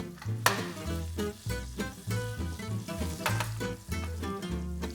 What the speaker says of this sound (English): The guanciale is slowly starting to release its fat.